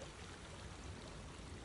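Soft, continuous rushing of flowing water from a stream, faint and even throughout.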